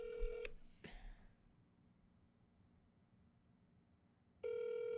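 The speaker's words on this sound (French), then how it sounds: "Il sonne vraiment bien, ton téléphone." A telephone sounds a short tone, a brief click-like burst, then a long quiet pause before a loud steady tone returns, with no talk in between.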